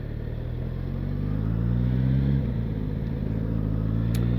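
A motorbike engine, presumably an inline-four, idles and revs steadily up close, with a continuous low mechanical drone and a brief pitch shift partway through.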